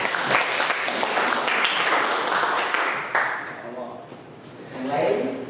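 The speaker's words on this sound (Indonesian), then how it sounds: "tepuk tangan untuk Mas Kang" Audience in a classroom micro-teaching session applauds a presenter, a dense burst of clapping that fades toward the end, with voices speaking over it.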